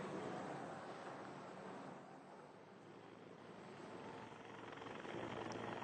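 A helicopter flies steadily with a dense, even rotor and engine roar that swells slightly and stays faint and distant. It is tied to the transport of plane crash victims at Sultan Hasanuddin Airport, Makassar.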